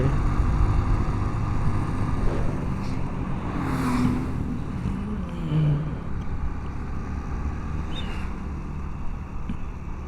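A 110 cc motorcycle labouring uphill on a road near Lake Toba, its engine a steady low drone mixed with rushing wind noise, recorded close while riding, with no talk.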